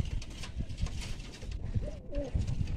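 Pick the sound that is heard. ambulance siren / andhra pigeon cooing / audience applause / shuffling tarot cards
andhra pigeon cooing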